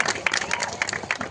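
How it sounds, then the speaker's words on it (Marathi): A crowd at a kushti wrestling match claps and cheers, dense overlapping applause with sharper bursts, heard close with a mix of voices in the crowd. "एकदा राजेश मालकांसाठी जोरदार टाळ्या करा"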